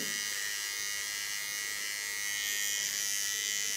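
Electric clipper shaving the nape of a neck, a continuous close buzzing drone that holds steady throughout with slight changes as the blades move over skin.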